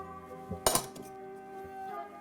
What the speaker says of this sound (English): Time to add the ice cubes.